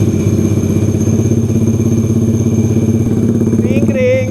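Honda Click V4 scooter fitted with a dry clutch, idling with a rapid rhythmic clattering rattle that stays close and loud, with a brief rise in revs at the end.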